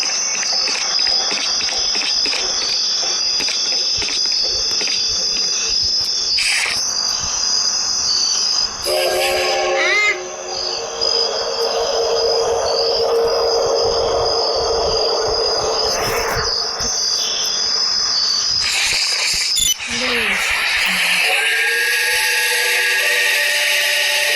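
A train rumbles past steadily with clacking wheels and a long horn blast in a horror video game park, insects chirping faintly in the background, all synthetic and game-like.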